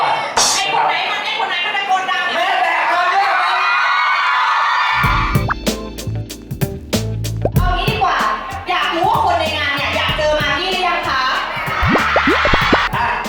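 Fans at a Margie meet and greet cheer and scream in a dense, excited crowd roar with claps and whoops, after which loud music with a thumping beat starts and the cheering continues over it.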